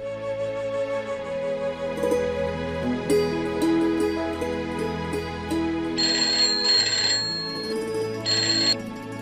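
A telephone rings with a melodic electronic ringtone, loud and continuous, playing alone with no talking over it.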